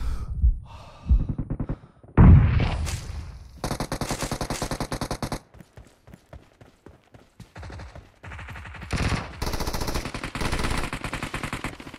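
Rapid automatic gunfire in the PUBG Mobile game's Assault Mode, loud bursts of repeated shots separated by short gaps, with some game sound effects between volleys and no talking.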